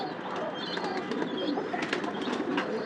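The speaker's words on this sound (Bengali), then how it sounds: "এই যে কবুতরগুলা, ছাদে আসলাম" Pet pigeons on a rooftop coo softly and steadily, with occasional faint chirps and wing rustles over a constant outdoor background hum.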